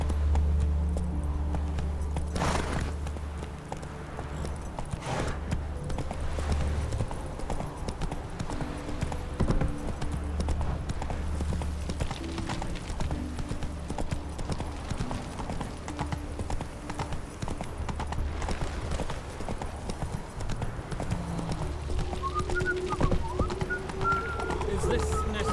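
Roach, the horse in The Witcher III, trots with steady, even hoof clip-clops that continue throughout over a low game ambience.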